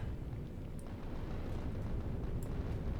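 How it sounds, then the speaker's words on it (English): Rockets launching in the factory-building game Factorio, heard as a faint, continuous low rumbling roar that holds steady throughout, with a couple of brief high chirps on top and no voices. "Look at all the rockets being fired."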